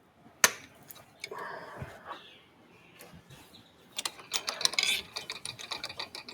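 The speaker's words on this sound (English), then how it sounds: "Small boring bar, I'll angle the tool post over, get a nice little chamfer going there" A small lathe boring bar cuts a chamfer on a whistle part, giving faint intermittent scraping and chattering bursts with a sharp click near the start and denser ratcheting cuts toward the end.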